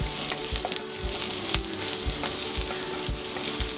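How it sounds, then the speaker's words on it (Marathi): Ginger and onion sautéing over a full high flame for mushroom fried rice, a steady close sizzle and crackle with regular scraping stirs of a spatula, no voices. "आलं, कांदा, फुल गॅसवर परतून घेऊया।"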